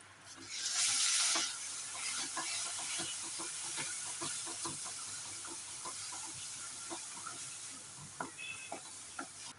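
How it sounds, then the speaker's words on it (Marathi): Coconut and coriander masala paste tipped into a pan of spices for a Marathi fish curry: an initial hissing sizzle, then soft bubbling and a string of light spoon scrapes and taps against the pan. "त्याच्यामध्ये आपण ही तयार केलेली पेस्ट टाकणार आहोत"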